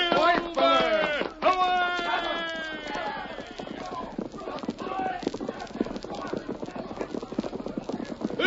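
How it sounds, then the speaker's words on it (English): Horses galloping in an old Lone Ranger radio drama, quick rhythmic clip-clop hoofbeats running throughout with a loud whinny at the start, mixed with shouting voices. "Get on your horse, Tonto."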